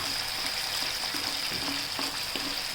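Potato and spinach bhaji in ground-spinach gravy with garam masala and salt being stirred in a pan: a steady soft sizzle with gentle repeated scraping strokes of a spoon, close and moderately quiet.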